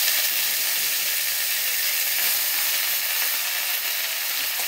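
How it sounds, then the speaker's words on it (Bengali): Leafy greens dropped into hot oil with fried garlic give a loud, steady sizzling hiss that stays close and continuous, with no voices. "শাকটা দিয়ে দেবো।"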